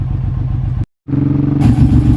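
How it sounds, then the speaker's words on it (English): A Suzuki M109R cruiser, the American version of the Suzuki Intruder, rumbles steadily while being ridden, with a brief dropout before the engine and wind noise return louder, and no talking over it. "this bike I'm on today is a Suzuki M109R, which is the American import version of the Suzuki Intruder"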